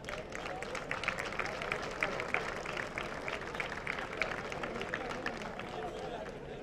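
Sustained audience applause fills a hall at a Spanish town's tribute evening for elderly residents, dense steady clapping from many hands, heard at a distance and fairly faint.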